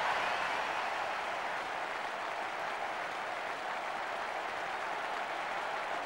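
Steady crowd roar and applause from the ISS 98 football video game follows a goal, a dense unbroken wash of noise at even loudness with no talk over it.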